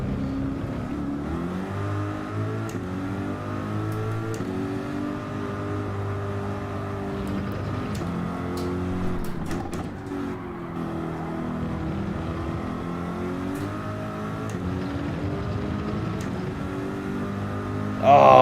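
A GT3 race car in the Gran Turismo video game at Lago Maggiore, its engine droning and shifting pitch through gear changes as it slows and accelerates, loud and continuous, with a few brief clicks.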